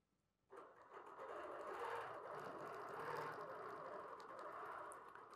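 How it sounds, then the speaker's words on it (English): A BERNINA sewing machine runs steadily while stitching a quilt wall hanging, starting abruptly after a brief quiet moment and then holding an even, close mechanical whir to the end. "And I'm going to stitch right to my seam line and stop"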